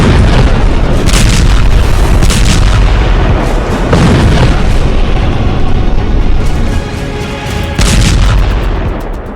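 Airstrike explosions in an animation boom in heavy, dense succession, loud close blasts and rumbling impacts overlapping with crackling debris throughout, with no talk.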